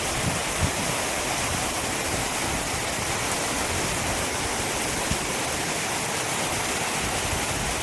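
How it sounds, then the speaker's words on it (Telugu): A heavy downpour of rain falling after a village prayer for rain; a dense, unbroken roar of rainfall, close and loud, with no voices. "కుంభ వృష్టి వర్షం అయితే ఏ విధంగా పడిందో చూడండి."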